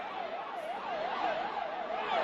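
Ambulance siren wailing steadily in a rising and falling pattern as the vehicle drives into a crowd at a political rally, loud and continuous throughout.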